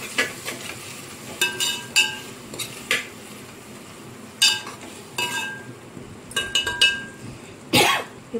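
Spices and rice frying in a pan for spicy pulav, a faint sizzle under repeated sharp clinks and scrapes of a metal spoon against the pan, stirred in irregular bursts.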